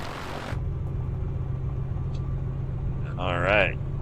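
An A2A Comanche taxis in MSFS2024, its engine giving a low, steady rumbling drone that runs throughout, with a brief voice and a burst of noise near the end.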